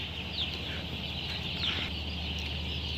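Chickens in a poultry shed give a steady, close crowd murmur with scattered clucks and occasional higher calls over constant background hum, with no talking.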